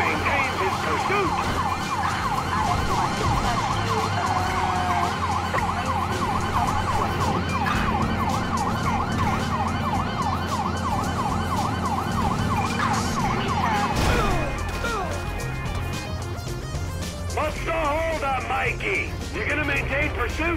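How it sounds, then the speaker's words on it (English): Police sirens wail continuously during a high-speed chase in Grand Theft Auto V, with car engines and road noise beneath and people talking over the pursuit throughout. "You hear the sirens."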